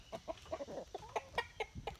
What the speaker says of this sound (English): These are my Wyandotte hens.